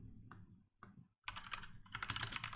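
Quick bursts of typing on a computer keyboard while writing code, close and quiet, with short clattering runs of keystrokes separated by brief pauses.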